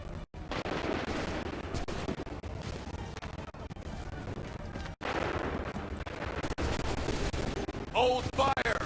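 Musket and rifle gunfire in the game Assassin's Creed 3, a dense battle of crackling volleys and sharp shots, sustained and loud, with shouted voices mixed in and a burst of distinct sharp reports at the end.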